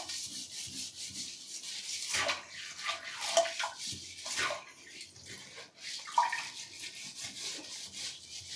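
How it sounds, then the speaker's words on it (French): A scrubbing brush works a foaming homemade household cleaner across a surface, giving steady wet rubbing strokes in uneven bursts, close and moderately loud, with no speech. "on va en profiter pour prendre notre brosse et frotter."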